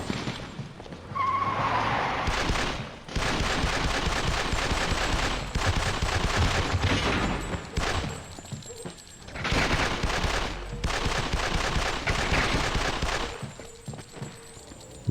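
Gunfire in the PS2 video game 100 Bullets comes in several long, loud bursts separated by short pauses, with game effects mixed in and no talking.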